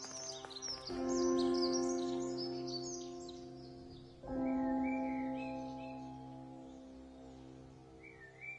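Birds chirp in The Last Campfire, bright twittering calls over a sustained tonal music bed that swells twice, with a short chirp recurring near the end.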